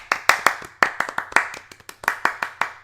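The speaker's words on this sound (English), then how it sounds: "I don't have an applause sound effect, so I'm just gonna do this." A single person claps by hand close to the microphone during a podcast, standing in for an applause sound effect. About a dozen sharp claps come in a loose, uneven rhythm.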